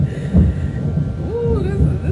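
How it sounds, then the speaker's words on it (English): Thunder rolls during an overcast storm as a low, throbbing rumble that swells and fades under a voice talking nearby. "Ooh, this thunder is something serious."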